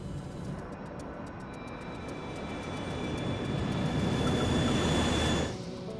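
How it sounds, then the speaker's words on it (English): Airplane in flight levelling off, a continuous broad roar of engines and airflow that swells gradually, then drops away abruptly near the end. "The plane begins to level off."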